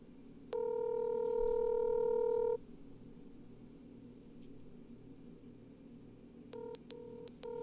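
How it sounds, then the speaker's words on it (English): A phone ring tone sounds through a handset: one long steady tone, a pause of line hiss, then a few short repeated beeps. "Can you hear that ringing on there?"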